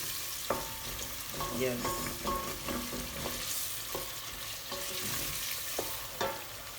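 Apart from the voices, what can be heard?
salted beef frying and being stirred for oil rice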